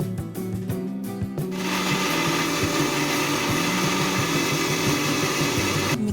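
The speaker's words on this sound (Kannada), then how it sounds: "ಸೀಡ್ಸ್ ಎಲ್ಲ ಸಪ್ರೇಟ್ ಮಾಡ್ಕೊಂಡು ಮಿಕ್ಸಿಗೆ ಹಾಕೋತೇನಂತೆ." A kitchen mixer grinder blends pomegranate seeds: brief rattling clatter first, then the motor spins up into a loud, continuous whirring grind that runs for several seconds before cutting off.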